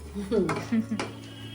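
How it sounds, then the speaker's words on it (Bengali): Pistachios and other nuts for dry fruit laddoos are stirred in a dry pan, giving close metallic scrapes and clinks of a utensil against the pan in a few quick strokes, without talk. "এটা আমি শুকনো খোলায় নেড়ে নিই।"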